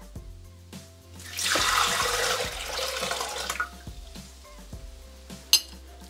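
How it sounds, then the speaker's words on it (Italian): Water poured into a Thermomix mixing bowl makes a gurgling splash that swells for about two seconds and then tapers. Light clinks and knocks of kitchen utensils sound before and after it, with no voices. "Iniziamo la ricetta mettendo all'interno del boccale l'acqua."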